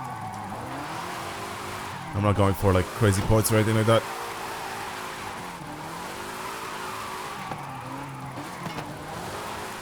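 Car drifting in Forza Horizon 5, a long sustained slide with engine drone and tire squeal running throughout, rising to a louder burst of revving and squeal midway, while someone talks over it.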